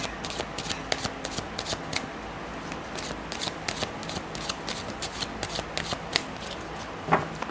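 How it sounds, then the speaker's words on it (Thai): Tarot cards shuffled by hand up close, with a continuous flutter of riffles and soft slaps and a sharper card snap near the end. "ก่อนอื่น เนี่ย ขอสักไพ่ก่อน"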